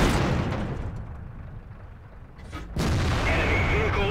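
A tank cannon booms in the World of Tanks video game, followed by a sustained rumbling explosion and burning roar, with a brief game voice alert on top.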